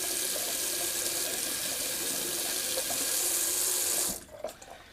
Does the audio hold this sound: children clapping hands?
no